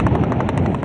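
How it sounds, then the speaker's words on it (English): Rapid automatic gunfire mixed with helicopter rotor noise during a night special forces landing in hostile territory, loud, dense and continuous in a brief burst. "Gunfire lights up the night sky"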